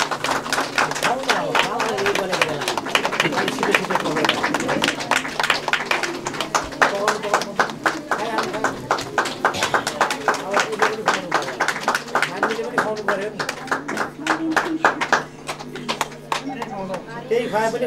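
Guests at a Nepali Christian wedding clap in rapid, dense rounds of applause, loud and close, with a voice speaking over them at times.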